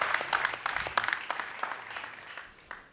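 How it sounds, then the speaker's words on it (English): Audience applause at a CES 2024 presentation, scattered claps spread over a few seconds, moderately close and thinning out toward the end. "let's give him a big warm round of applause."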